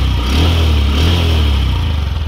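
Honda SP 125 motorcycle engine, E20 disc variant, idling close by after a self-start, a steady low throb held for the whole stretch without talk.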